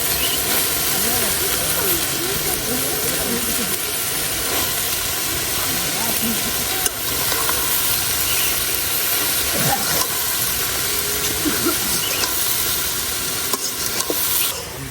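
Water spinach greens and dried shrimp sizzle loudly and steadily in a hot pan, a constant close hiss with occasional stirring scrapes throughout.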